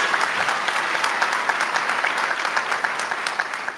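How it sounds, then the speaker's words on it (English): An audience applauds at a School of Dentistry white coat ceremony for the incoming classes, a steady dense wash of many hands clapping close and loud, with no talk over it. "a round of applause"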